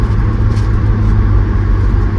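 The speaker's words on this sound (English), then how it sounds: "It's just got a little tiny bit of rumble. It's not loud at all, but just a little rumble." A steady low truck engine rumble idles continuously, deep and even, with a faint hiss of exhaust and no talking.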